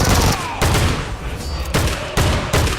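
A shotgun fires in PUBG Mobile, with several loud, booming blasts at an uneven pace, each followed by a short rumbling tail.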